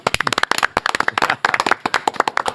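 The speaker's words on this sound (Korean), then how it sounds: "박수로 맞이합니다" Close, sharp hand claps from a small studio audience welcoming a politician onto a Korean talk show, quick irregular bursts of individual claps that continue throughout.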